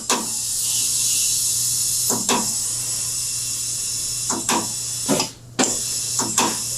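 Compressed air hissing steadily as a car tire on an alloy wheel is inflated, a continuous loud hiss with several brief dips and interruptions from the air chuck, no voices.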